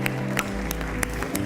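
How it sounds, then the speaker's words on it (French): A congregation at a French-language church worship service claps along in a steady rhythm, with sharp, evenly spaced beats over loud music with a sustained low tone. "On peut donner une bonne main d'applaudissements."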